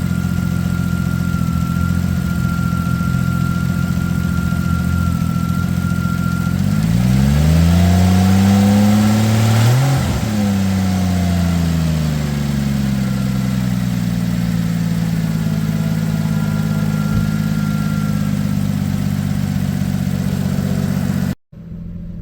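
A 2007 Ford Edge engine idles steadily, briefly revs up and settles back, then returns to a smooth, even idle up close.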